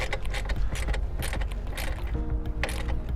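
A ground screw with a ring terminal is tightened during a remote start installation on a 2019 Kia Sportage, heard as close, busy ratcheting clicks and metallic mechanical rattling throughout without talking.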